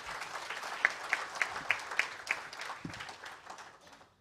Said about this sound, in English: You can clap loudly.